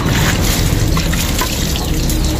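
Water poured to rinse a Euro Griffin 180i CVT scooter during cleaning, a steady, close, fairly loud splashing trickle that runs without a break and has no talk over it.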